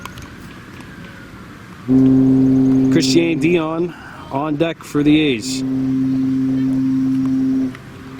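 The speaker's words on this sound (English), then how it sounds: "You can hear the boats in the background here." A deep, steady boat horn blasts twice in the distance, long sustained tones, while someone speaks over the first one, at a youth baseball game in Kahnawake.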